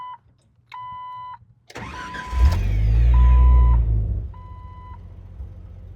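A Jeep TJ engine cranks and fires up, surging loudly into a steady rumbling high idle at close range, with a repeating electronic warning chime beeping before and after the start.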